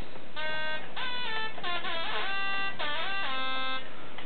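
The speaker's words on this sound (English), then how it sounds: "Basically, the Hip Hop Lead sounds something like this." A bright synthesized lead plays a short melodic phrase of held notes with sliding pitch bends, clean and alone.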